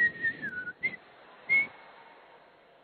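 A preacher imitates a man blowing a whistle with his own mouth, giving a few clear whistled tones in short bursts, some sliding downward, close and fairly loud with no speech over them.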